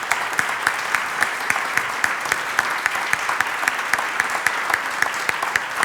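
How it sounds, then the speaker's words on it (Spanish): Applause from an audience at a Spanish discussion program about people with celiac disease, steady continuous clapping with crisp individual claps standing out throughout, moderately distant and even in level. "vamos a dar un aplauso"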